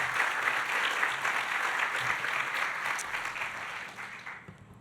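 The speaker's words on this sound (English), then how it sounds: "Let's give one more round of applause to Fatma, to Felix, to Dan for their inspiring words." Sustained audience applause at a university address, a dense wash of many hands clapping that holds steady and then fades out near the end.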